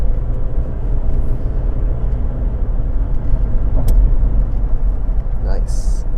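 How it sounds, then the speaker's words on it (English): A 2014 Toyota Land Cruiser J200 with a 4.5-litre twin-turbo V8 diesel accelerates hard, a steady loud low engine drone heard from inside the cabin, with a voice speaking over it. "I'm just going to unleash the V8 a little bit here."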